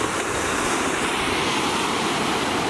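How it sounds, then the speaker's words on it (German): Rough ocean surf at Naithon Beach, Thailand, makes a loud, continuous roar and wash of breaking waves close by, with some wind buffeting and no talking. "Die Wellen sind schon hart hier."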